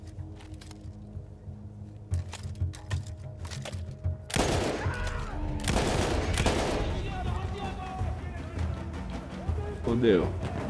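Battlefield 1 gunfire rings out in bursts: scattered single shots, then two loud, sustained volleys of rapid fire in the middle, with a player talking over the game sounds.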